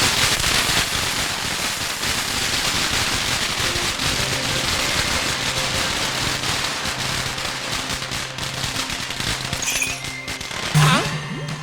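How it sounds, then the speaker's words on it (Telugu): Firecrackers burst in a dense, continuous crackling barrage, loud and close, with a few distinct pops and a shrill rising whistle near the end. "నాకు ఈ టపాసులు అంటే కొంచెం భయం"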